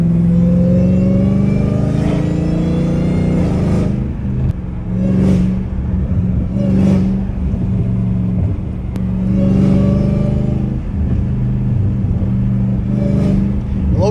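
Catless, straight-piped Dodge Hellcat Redeye revving hard close by, a loud, raspy rumble that climbs repeatedly in short bursts, with a steady deep idle between pulls and no talking.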